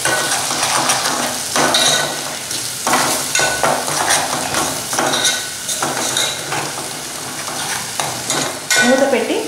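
Vegetables for anapa ginjala curry fry over a low flame, a constant sizzle broken by spatula scrapes and clinks against the pan, close and fairly loud with no voices.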